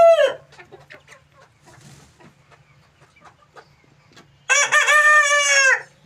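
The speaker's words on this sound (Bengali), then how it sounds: "তাই এই মুরগির নাম দেওয়া হয়েছে টাইগার মুরগি।" A tiger chicken, a striped-looking breed kept for eggs and meat, gives a short call, then soft scattered clucks, before a loud, close crow rings out for over a second at the end.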